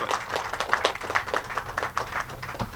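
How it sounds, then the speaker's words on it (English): An audience at an ambulance handover ceremony gives scattered, uneven applause for the sponsors, a loose patter of claps at moderate distance. "Give them all a round of applause for this worthy and collaborative effort."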